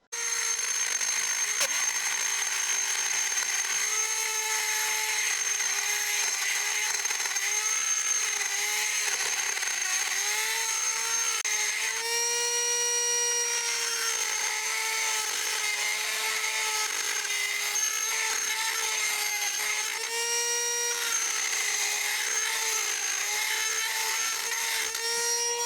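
A Dremel rotary tool cuts into a Sugihara chainsaw bar being converted for an Echo CS501P saw. It gives a continuous high-pitched grinding whine whose pitch wavers as the cut loads and eases, close and alone for the whole stretch.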